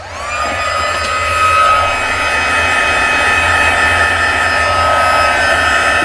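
A heat embossing tool runs steadily as it warms up, a loud, even blowing whoosh with a high whine that holds unbroken from start to finish.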